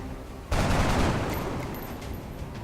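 Gunfire in the turn-based strategy game XCOM: Enemy Unknown, a sudden loud burst of shots that bursts in and rumbles on as a dense, sustained roar of fire for about two seconds.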